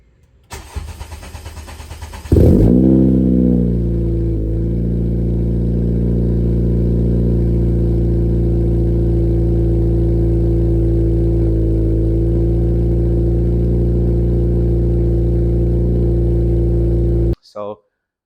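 A 10th gen Honda Civic with a new ARK exhaust cranks and starts after some brief handling noise, settling into a loud, steady idle heard close up for about fifteen seconds before cutting off abruptly.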